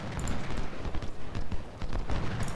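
Cavalry horses in the Civil War strategy game Ultimate General clip-clop in a busy, uneven clatter, mixed with scattered musket fire and distant booms.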